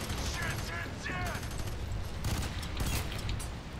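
Rapid bursts of automatic gunfire in the video game FEAR 3, loud and continuous across the clip with sharp repeated shots layered over one another.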